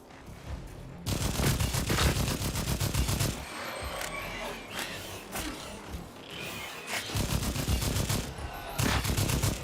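Gunfire in the video game Second Extinction: loud, close bursts of rapid automatic shots in several long volleys with short pauses between, over game ambience.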